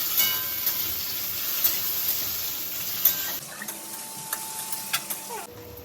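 Tomatoes sizzle and fry in a pan while a utensil stirs them, giving a close, steady hiss broken by repeated scraping clicks, with no voices.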